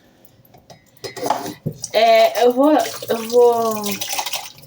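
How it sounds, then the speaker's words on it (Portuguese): Dishes clink and water runs in a kitchen sink while someone talks steadily over the washing, the clatter staying in the background. "falando quando eu tô lavando a louça aqui."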